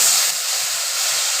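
Water splashed into frying chicken stomach masala in a pan brings a loud, bright hiss that bursts up at once and then settles slightly, with no talking over it.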